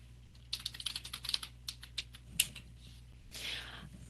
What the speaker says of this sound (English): I started typing in documenting time in the medical records